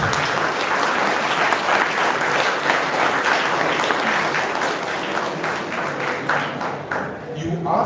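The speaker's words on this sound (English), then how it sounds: "Please, your huge applause." Sustained audience applause for commerce stream toppers at a higher secondary school felicitation, many hands clapping steadily before tapering off at the end, with some voices mixed in.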